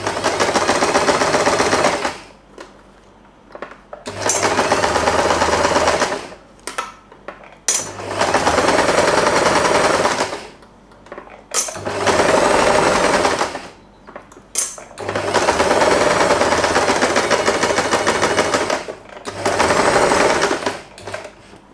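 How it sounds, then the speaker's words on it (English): A sewing machine stitches a fabric-covered headband in loud, close, steady whirring runs of two to three seconds, each separated by brief pauses. "Let's just sew this part."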